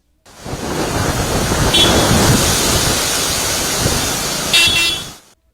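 Thunderstorm with thunder, lightning and gusty winds strong enough to topple trees and power poles: a loud, continuous roar of wind and rain with deep rumbling swells, holding steady before a brief surge near the end.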